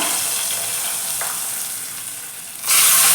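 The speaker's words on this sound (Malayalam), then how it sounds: "ഇനി നമുക്ക് ആ ഉള്ളി വറുത്തത് കറിയിലേക്ക് ഒഴിച്ചു കൊടുക്കാം" Steady oily sizzling of a prawn and mango curry fills the kitchen, then a sudden louder burst of hissing as hot fried onions are poured in near the end.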